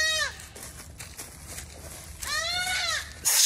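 A caught baby goat screams in two loud, shrill, wavering bleats, one at the start and one near the end, with rustling and handling noise between them.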